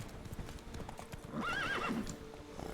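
Horse hooves clip-clop at a steady trot in a video game, joined midway by a rising whinny, heard fairly clearly over soft game background with no talk.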